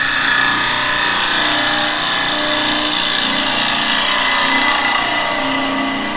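Carbide woodturning tool cutting a bowl on a lathe, a steady continuous hiss and whir of the spinning wood under the cutter, close and fairly loud, throwing shavings rather than dust.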